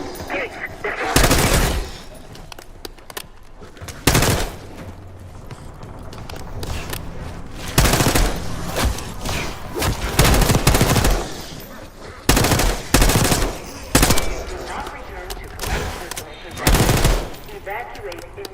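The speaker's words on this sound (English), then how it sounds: "You hearing gunfire? Yes. Sounds like it's coming from one of the boats." Gunfire in Call of Duty: Black Ops 6, coming from boats: loud, repeated bursts of automatic fire separated by short pauses, with a few quieter stretches between volleys.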